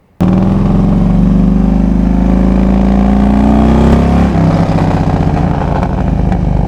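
Motorcycle ridden at night, its engine a steady loud close drone that rises slightly in pitch and then shifts as the rider changes speed, with no talk over it.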